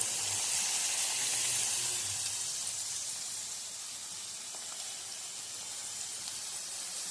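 Potato pieces fry gently in oil in a pan, giving a soft, steady sizzle and hiss that fades slightly partway through, close but fairly quiet with no voices.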